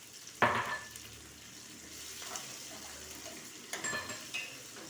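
Ginger and garlic frying in a pan with a soft sizzle, punctuated by a few sharp stirring scrapes and clatters, close and fairly quiet.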